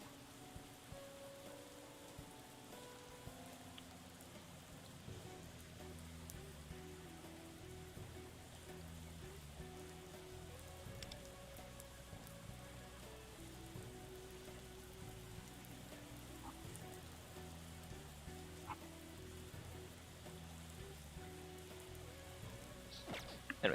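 Steady rain patters throughout a rainy-day scene in Persona 5 X, soft and continuous beneath looping background music with sustained tonal notes.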